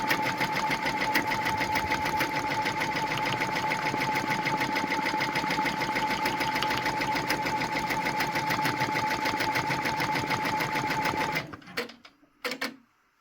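Brother PR1055X embroidery machine stitching a monogram applique with gold metallic thread at 400 speed: a loud, close, rapid mechanical chatter with a steady whine that runs evenly, then winds down and stops with a few clunks.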